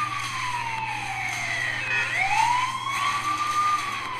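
Police sirens wail in pursuit of the player in the mobile game The Offenders, with a rising and falling electronic tone over a low steady hum.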